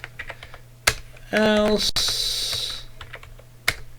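Clicky computer keyboard typing in short bursts of keystrokes, close and fairly loud, with a brief voice speaking partway through.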